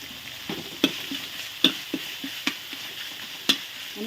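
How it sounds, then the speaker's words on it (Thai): Thai curry paste fries in coconut fat in a pan, a steady soft sizzle broken by several sharp scrapes and clacks of a utensil stirring at irregular intervals, close and without talk. "เจียวพริกแกงสักพันนะจ้า กินมัน เอาพริกแกงกินมันก่อน"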